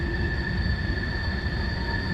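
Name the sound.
CSX freight train passing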